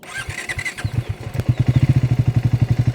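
Triumph Speed T4 motorcycle engine starting with clattery cranking, then settling into a loud, close, steady thumping exhaust idle with an even rhythmic pulse.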